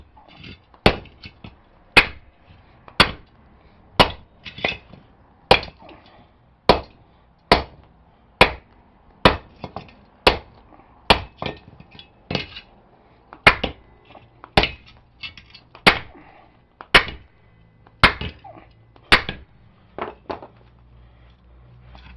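Hammering on the welds of a scrapped table saw, trying to crack them: about twenty sharp, loud metallic strikes in a steady rhythm of roughly one per second, each with a short ringing tail, no talking.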